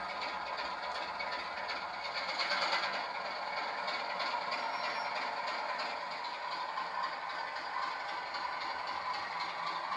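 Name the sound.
model locomotive running at speed setting 9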